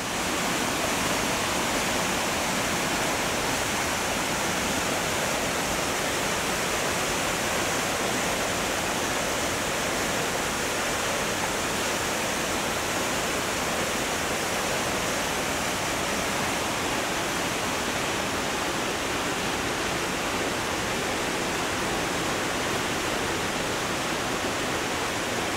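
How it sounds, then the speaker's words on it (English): Falls of the River Clyde at New Lanark, a waterfall roaring as a steady, loud, dense rush of water lasting the whole time without pause, no voices over it. "This is the falls of the River Clyde at New Lanark."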